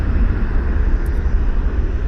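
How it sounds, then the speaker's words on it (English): A private jet's engines roar steadily at Toronto Pearson Airport, a continuous broad whooshing hum at moderate distance with no talk. "Private jet there."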